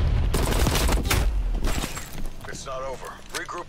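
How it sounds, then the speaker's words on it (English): Bursts of rapid gunfire from the Call of Duty Cold War video game, loud and dense at first, then thinning out as a voice talks over the fading shots. "I think the gun sounds nice when it shoots all of them."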